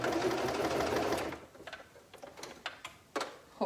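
A home sewing machine stitching fabric for a kids' project runs in a loud steady burst for over a second, then stops, leaving a few sharp mechanical clicks and taps.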